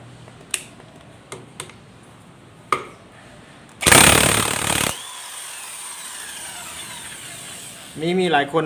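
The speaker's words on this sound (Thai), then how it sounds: "เป็นบล็อกไฟฟ้า น่าจะสี่หุ่นนะ" An electric half-inch impact wrench fires one loud burst lasting about a second, after a few scattered sharp clicks, then fades into quiet room noise with a brief squeak at the end.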